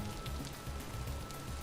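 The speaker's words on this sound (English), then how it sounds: "Man, why is it raining again?" Rain falls steadily in the video game Vintage Story, a dense even patter of drops with a low rumbling bed beneath, continuous and without voices.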